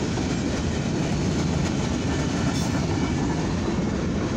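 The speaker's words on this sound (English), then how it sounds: "So this is a mixed freight, grain, rail, and steel." A mixed freight train carrying grain, rail and steel rolls past close by, a loud continuous rumble with rattling cars and wheel clatter and no voices.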